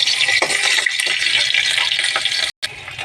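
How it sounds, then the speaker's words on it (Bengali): Green and dry chillies sizzling and spitting in very hot oil, a steady broadband hiss of frying that cuts out briefly near the end before resuming. "তেল গরম হয়ে গেছে, খুব অতিরিক্তভাবে গরম করেছি। এর মধ্যে দেবো, দেখো, দুটো শুকনো লঙ্কা"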